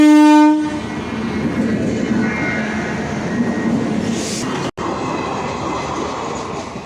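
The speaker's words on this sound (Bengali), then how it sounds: "ট্রেনটা আসছে মনে হয়।" A train approaches a lowered gate at a railway level crossing. Its horn blows loud and sustained, then a rumbling, rattling roll of wagons passes nearby.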